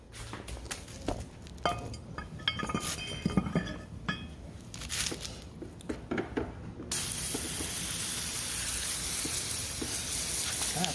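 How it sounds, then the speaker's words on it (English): A painted 20-pound anchor is rinsed with water: clinks and knocks of metal give way after about seven seconds to a steady, loud hiss of spraying water. "let's give it a rinse off."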